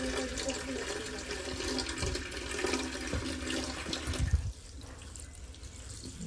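Water pours steadily from a tap onto animal feed to soak it at home, a continuous rushing splash that cuts off about two-thirds of the way through, leaving quiet room noise.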